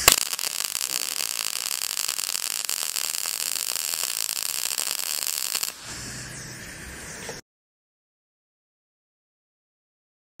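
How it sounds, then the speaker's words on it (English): MIG 200i welder running a MIG bead with a steady, loud crackling hiss for several seconds, then a short quieter burst before stopping into silence. "Now we're going to go ahead and weld."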